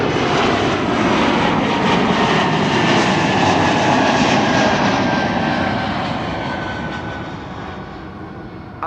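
An Airbus A220 jet, a former Bombardier C Series bound for Tallinn, roars steadily and loudly at Amsterdam Schiphol Airport, a broad sustained engine rush that slowly fades toward the end, with no voices.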